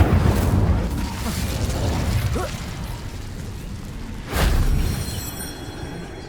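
Incendio fire spell cast in Hogwarts Legacy, a whooshing, roaring burst of flame at the start and a second loud burst near the end, over dense, continuous game noise.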